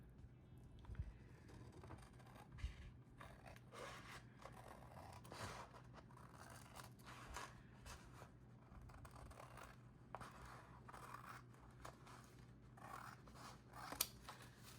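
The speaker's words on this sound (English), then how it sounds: "now I'm going to trim it where it hits that middle point." Scissors trimming a sticker sheet for homemade business cards, a steady run of close, soft snipping and crisp paper-cutting strokes, repeated in quick succession with no talking.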